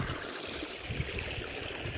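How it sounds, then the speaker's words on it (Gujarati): Irrigation water running into a moong bean field, a constant rushing, gurgling flow close by, steady and fairly loud with no talking. "આપણે મગમાં પાણી ચાલુ કર્યું હે."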